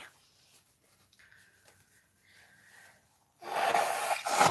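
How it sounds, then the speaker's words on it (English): After a few seconds of near silence, someone gives one close, forceful nose blow, a short rough burst of air lasting about a second. "I really have to blow my nose again."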